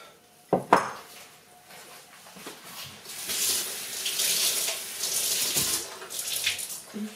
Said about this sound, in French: Faut que je fasse la vaisselle aussi, j'ai la grosse casserole et la poêle à laver